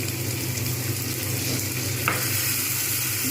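Bengali bhetki fish curry masala being stir-fried in a pan, a steady close sizzle and frying hiss with a soft scrape of stirring.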